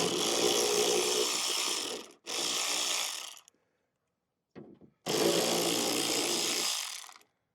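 Power tool whirring in bursts while 7mm bolts are backed out of a 2024 Mustang deck lid: two long runs, a short blip, then another long run, loud and close with no talk.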